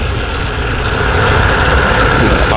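Electric bike powered by a sewing machine motor running under load as the clutch is let out, a loud continuous motor whine and rumble with steady vibration, no talk over it.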